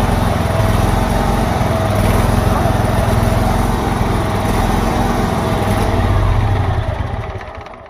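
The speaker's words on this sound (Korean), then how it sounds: "시동 켜볼게요" A Vanguard engine on a pressure washer runs loud and close, a continuous rough small-engine drone that holds steady and then fades slightly at the end.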